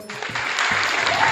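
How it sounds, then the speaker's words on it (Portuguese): An audience claps for a cordel poet at a literary event, a sustained wash of hand claps building after a voice briefly speaks at the start. "Então, apresentando vocês aqui com a salva de palmas, J. Arimateia,"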